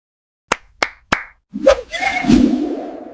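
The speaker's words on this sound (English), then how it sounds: "I am applauding." Three sharp, separate hand claps ring out close and clear, followed by a louder burst of smacking and noisier sound.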